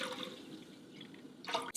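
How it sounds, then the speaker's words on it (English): Unsalted homemade chicken stock poured into a pot over high heat, a steady close liquid splash and gurgle running throughout, ending in a brief louder splash. "pour unsalted homemade chicken stock into the pot."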